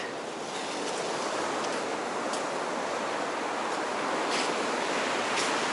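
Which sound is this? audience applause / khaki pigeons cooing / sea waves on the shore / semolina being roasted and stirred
sea waves on the shore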